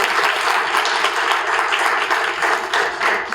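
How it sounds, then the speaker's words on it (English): A crowd claps steadily at a community gathering, a dense, sustained round of applause that holds at an even level with no one speaking. "So if we could give a round of applause for Tracy"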